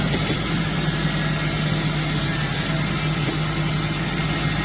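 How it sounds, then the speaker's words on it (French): An electric winch motor rewinding a paragliding tow cable runs at a steady, loud, continuous drone with an even hum and no break throughout. "maintenant on a un moteur électrique qui nous permet de rembobiner notre câble"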